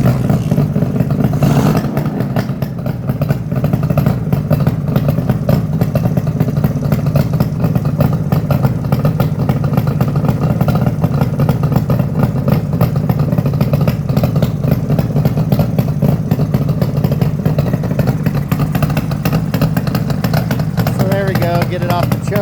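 A 1972 Suzuki GT750 motorcycle engine idles and warms up after a kickstart and coming off the choke, a steady loud close running drone with a clattery texture throughout.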